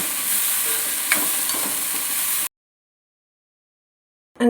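A Kerala long bean stir-fry (payar thoran) mixed with ground coconut paste is stirred in a pan, giving a soft scraping and faint sizzle for a couple of seconds before sudden silence.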